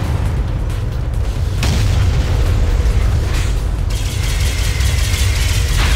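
A loud, rumbling explosion as the red orb is destroyed in Unreal Tournament 3, sustained booming with a sharp burst partway through over dense battle noise.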